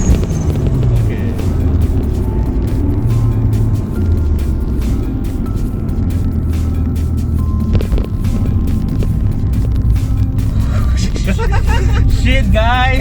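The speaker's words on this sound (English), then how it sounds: "The wastegate, the external wastegate sound" A Mitsubishi Lancer Evolution 5 with an external wastegate is driven on the road, its engine droning loud and steady from inside with rumbling low tones and road and wind noise, and a voice is heard near the end.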